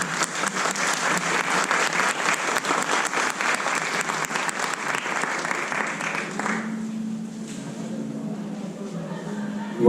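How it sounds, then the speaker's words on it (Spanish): Sustained audience applause fills a room at a book launch for an economics title, dense and steady for several seconds before thinning out into lighter scattered clapping and murmur. "Un aplauso, por favor."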